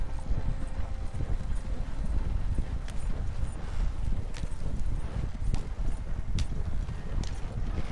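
Rapid, continuous hoofbeats of a galloping horse in Red Dead Redemption 2 Online, loud and close, with wind-like rushing noise throughout.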